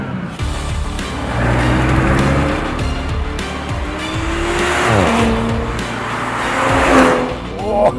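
A BMW M340i xDrive engine and exhaust rev and roar up close, the pitch rising and falling through repeated throttle blips with a steady loud drone and some tire noise.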